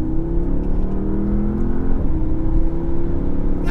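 Porsche Panamera launching hard under launch control at night, engine roaring loud and close with a steady rising drone, a brief shift break midway, then continuing to pull.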